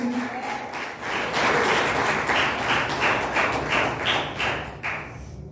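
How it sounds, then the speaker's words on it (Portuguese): A crowd applauds loudly and steadily for several seconds, dense clapping filling a large room, with a brief dip near the end. "aplauda bem forte, Jesus."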